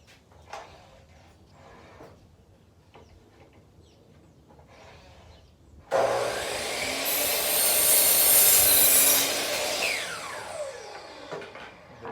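Wood is cut with what appears to be a sliding compound miter saw, a loud burst of sawing that begins abruptly after soft workshop handling sounds, swells for several seconds, then fades out.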